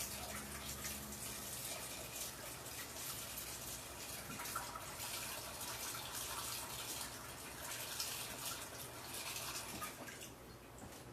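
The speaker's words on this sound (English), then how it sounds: "So now I'm going to add hot water." Hot water runs steadily from a tap into a pot of rinsed potatoes in a home kitchen, a continuous close splashing gush that lasts throughout with no talking.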